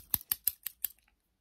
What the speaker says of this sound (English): Nice, some scissors.